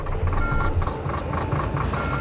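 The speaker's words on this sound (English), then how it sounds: "the tractor starts" A tractor on a snowed-in, frozen recovery site, its engine starting and settling into a loud, close, rhythmic diesel idle with throbbing pulses and no talk over it.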